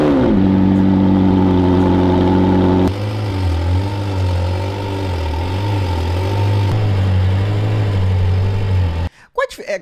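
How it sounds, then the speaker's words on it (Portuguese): A McLaren 765LT sports car with upward-pointing exhausts runs close by with a loud, steady engine drone that changes pitch partway through, then cuts off into a few short clicks. "765 LT, aquela que os escapes é pra cima."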